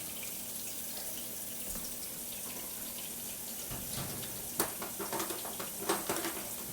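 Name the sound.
scrubbing a potato under running tap water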